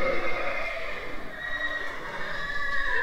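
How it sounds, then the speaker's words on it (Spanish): A horse at a livestock fair, a 17-year-old quarter horse stallion, gives a drawn-out whinny with a sustained tonal call that fills the short stretch against a noisy fair background. "está chulada este caballito"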